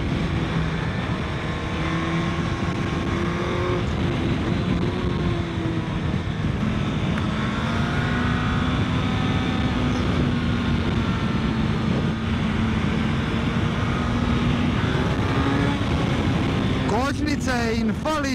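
A Suzuki GSX-S 1000 GX motorcycle rides along at a steady, droning engine pitch with constant wind rush, loud and close throughout, with a brief rise in revs near the end.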